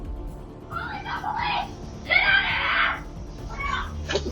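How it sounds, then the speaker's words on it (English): A woman screams from inside her home as two men manhandle her locked door, captured by a doorbell camera; loud, strained cries come in several bursts of a few seconds each, one long shriek at the center, over faint outdoor noise. "The lady noticed that her door was being manhandled and screamed."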